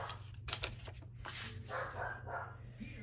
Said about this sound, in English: what Max is barking at